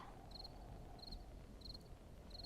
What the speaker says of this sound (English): that's right, nothing but crickets